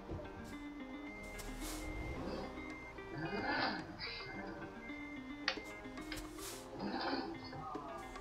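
Truck reversing beeps sound while a trailer is backed into a tight car park in the Euro Truck Simulator video game, played on a steering wheel. The steady repeating tones run under a voice talking.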